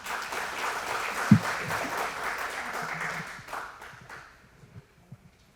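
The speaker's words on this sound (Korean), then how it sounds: "박수로 맞아주시기 바랍니다." Audience applause at a city policy forum in a hall, a broad steady clapping from a crowd lasting several seconds, then thinning out to a few scattered claps near the end.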